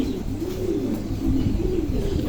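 Pigeons coo in soft, repeated rolling phrases, close by and steady, with a low hum of background noise underneath.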